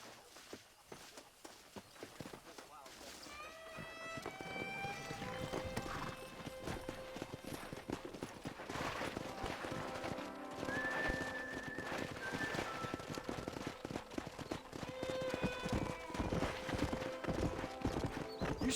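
In the video game Red Dead Redemption, a pack of wild horses gallops past with dense, rolling clip-clop hoofbeats and repeated high neighs and whinnies, building louder and nearer over the stretch.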